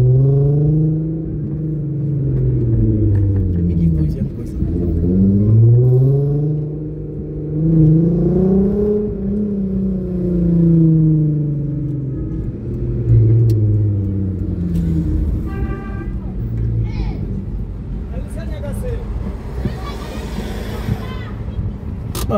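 Nissan Skyline R32 with an aftermarket exhaust, driving nearby and revving, its engine note rising and falling in repeated long sweeps. The tone is loud and sustained throughout, with voices faintly underneath.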